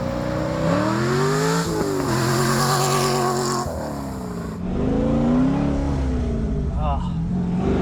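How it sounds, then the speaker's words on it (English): An LS V8-swapped widebody Porsche 911 accelerates, its engine note rising and falling in loud, sustained revving sweeps that dominate throughout, with the pitch dropping before climbing again. "Seriously, one of the best sounding cars I've ever owned"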